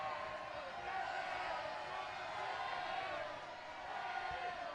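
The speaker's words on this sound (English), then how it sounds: "Crowd on their feet as well." A rugby crowd at an under-20s Wales versus Italy match cheers from the stands as a steady, distant roar that swells and dips slightly. A commentator talks over it.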